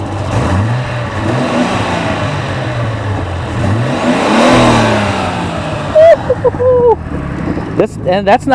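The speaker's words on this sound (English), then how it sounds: "let's give it a couple revs so you guys can see" A Nissan Fairlady Z inline-six engine idles and then revs up, rising to a louder peak before dropping back, with a few short voice sounds near the end.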